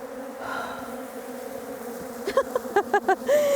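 Beehive bees roused by breath, a low steady buzzing hum that breaks into several loud pulsing bursts of agitated buzzing close by.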